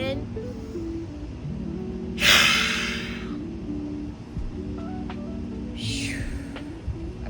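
Two deep, breathy exhales stand out over a steady low hum. The first is the louder and longer, and a softer second breath follows a few seconds later.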